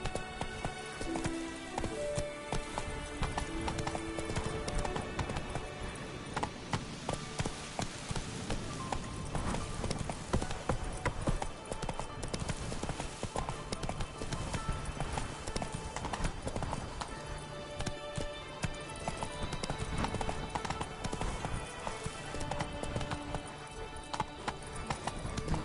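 Horse hooves clip-clopping at a gallop in The Witcher video game, a dense continuous rhythm under loud layered game music and ambience, with a faint neigh.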